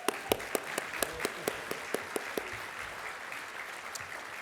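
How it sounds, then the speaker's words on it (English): An audience at a sustainability summit plenary session applauds, with sharp individual claps standing out early over a dense wash of clapping that holds steady and gradually thins, no talk over it. "Let's give one more round of applause."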